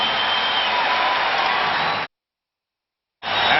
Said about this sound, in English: The crowd trying to get the home club going